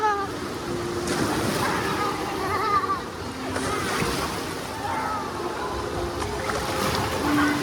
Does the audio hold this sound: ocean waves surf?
yes